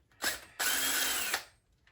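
A power drill backs screws out of a Traxxas T-Maxx 4981X RC truck: a short whirring burst, a brief pause, then a longer steady run of close, fairly loud whine that cuts off sharply.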